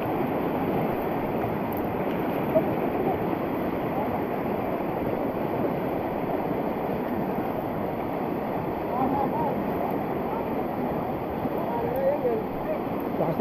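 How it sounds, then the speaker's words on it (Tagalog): A strong river current rushes in a steady, broad roar that fills the whole stretch, with faint voices now and then beneath it. "Lakas ng agos."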